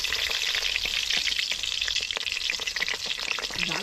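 Green chillies fry in hot oil for a rice and duck meat picnic cook-up, giving a steady, loud, close sizzle with crackling pops throughout and no talk.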